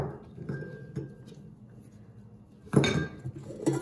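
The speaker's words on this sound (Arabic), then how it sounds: "هلا فينا نعملهم كمان نخفق البيض بالشوكة" A fork clinks against a bowl while beating eggs for aniseed cookies (kaak bi yansoon), with a few light taps at first and then a brisker run of close, scraping metal-on-bowl strokes.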